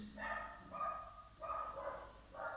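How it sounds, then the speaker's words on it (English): Faint dog barking in the background, a series of repeated yelping barks in irregular bursts, distant and soft against a quiet room. "Please excuse the dog barking in the background."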